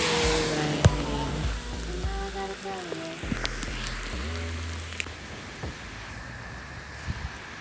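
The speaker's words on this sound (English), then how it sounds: "It's really raining." Heavy rain falls outdoors as a steady, close hiss of drops, with tonal, musical sounds layered over it for the first few seconds.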